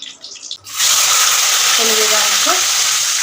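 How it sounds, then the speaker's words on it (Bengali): A loud burst of sizzling as sliced onions hit hot oil to brown for chicken biryani, then a steady, close frying hiss with faint brief voice sounds beneath. "এবার পেঁয়াজগুলোকে ভাজা একটু ব্রাউন মানে একটু ব্রাউন করে ভাজতে হবে"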